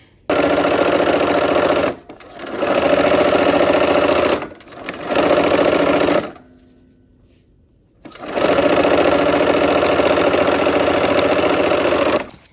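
A sewing machine stitches quilt block seams, turning quarter blocks into a half block, in three steady mechanical runs separated by short pauses and a near-silent gap, loud and close.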